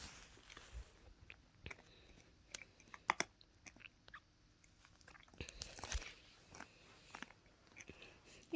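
A puppy gnaws and chews on a cup indoors, producing scattered close crunching and biting clicks in irregular bursts over quiet room tone, with no voices.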